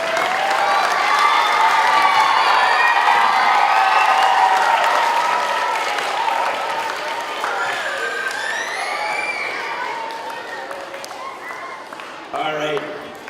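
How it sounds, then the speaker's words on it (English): Schoolchildren at an elementary school Arbor Day event break into loud, sustained applause with cheering and whoops, dense and close at first, then thinning and fading over the last seconds. "Round of applause for one more time"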